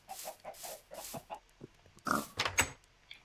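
A pig in the Minecraft video game gives a string of rhythmic grunts and oinks, followed by a few louder squeals and clucks from other farm animals.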